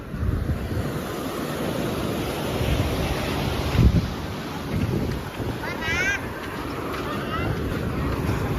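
Sea waves and wind at the Dinahican shore: a steady, loud wash of surf and gusting wind fills the whole stretch, with a brief thump partway through.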